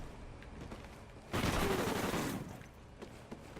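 A sustained burst of rapid gunfire from the video game Call of Duty: Ghosts on the Favela map, about a second long, rising sharply out of low game ambience and then dying away.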